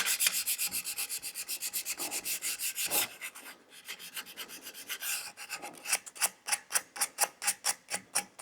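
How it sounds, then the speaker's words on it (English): Wooden drawer pull edges rubbed by hand with 220 grit sandpaper, steady close rasping strokes in a quick even rhythm, turning into slower, louder separate passes toward the end. "I'm just going to do that by hand with 220 grit."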